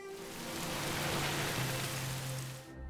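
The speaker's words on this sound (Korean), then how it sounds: "그리고 하염없이 바라보게 되는 빗소리" Steady rain hissing down onto a surface, a dense even wash of drops with a faint low hum underneath, then it cuts off.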